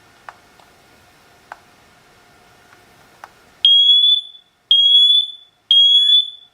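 Siterwell hardwired interconnected smoke and carbon monoxide detector running its test: a few faint clicks, then three loud, shrill electronic beeps of equal length separated by short silent gaps.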